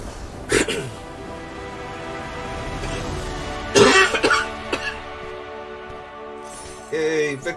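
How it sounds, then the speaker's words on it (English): A few brief coughs and throat-clearing sounds break over a steady low hum, with a soft voice briefly heard near the end. "Yay, victory cough."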